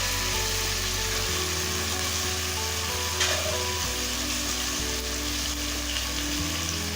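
Chicken pieces frying with tomatoes in a pan for Hyderabadi chicken biryani, a steady, even sizzle that runs unbroken, with a brief scrape of stirring partway through.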